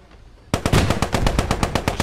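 A Bren light machine gun fires in Post Scriptum, a World War II video game: a sharp burst of rapid, evenly spaced, loud shots starts suddenly after a brief quiet moment and continues steadily.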